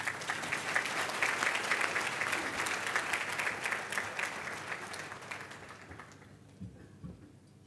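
An audience at a Hong Kong forum applauds to welcome a speaker: a steady, dense clapping from a large crowd that holds for several seconds, then fades out with a few last claps.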